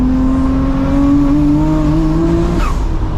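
Nissan Skyline R33 GTR with a 2.6-litre twin-turbo engine launching hard: a loud, steady engine drone climbing in pitch, then a quick shift with a brief break near the end.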